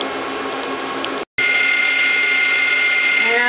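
Star SW7R Swiss-type lathe with live tool spindles running at 3,500 RPM, a steady high whine and hum close by, broken by a brief gap and then resuming slightly brighter.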